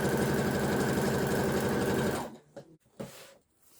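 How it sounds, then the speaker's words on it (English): A domestic sewing machine runs a steady, fast stitching burst while machine-tacking the seam of a skirt waistband for a zip, then stops abruptly, leaving a few soft handling clicks and rustles. "I've just machine tacked that together"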